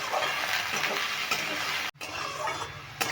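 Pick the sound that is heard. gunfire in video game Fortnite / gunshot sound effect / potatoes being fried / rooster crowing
potatoes being fried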